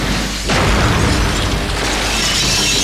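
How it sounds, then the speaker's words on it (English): Pistol gunfire in a video game, guard pistols firing: a sharp boom near the start opens into a loud, sustained burst of noise and rumble that holds steady for about two and a half seconds, with no voices. "Let's try a little old-fashioned gunplay."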